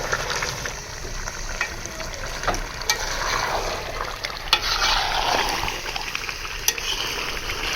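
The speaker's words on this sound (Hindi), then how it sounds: "4 से 5 मिनट इसकी अच्छे से बुनाई करेंगे।" Beef karahi with spices and roasted ground cumin fries hard in a pan, a continuous close sizzle broken by repeated scraping strokes and metallic clinks of a spoon stirring, with no voices.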